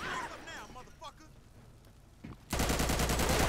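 Burst of automatic gunfire in a GTA 5 zombie mod firefight, erupting loud and dense after quieter moments with brief speech and scattered shots, continuing as sustained rapid fire to the end.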